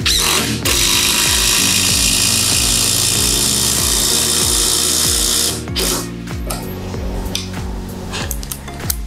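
A Dewalt DCF850 Atomic impact driver set to torque position 3 drives a screw into softwood, a loud rapid hammering whir for about five seconds, then it stops and faint handling clicks follow.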